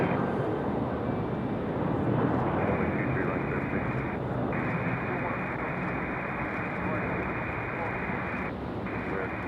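A Copa Airlines Boeing 737-700 departs heavy from Raleigh-Durham airport with a loud, sustained jet roar that fills the whole stretch, while someone talks over it.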